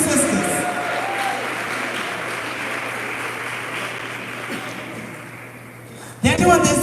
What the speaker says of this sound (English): Want you to clap for these two sisters.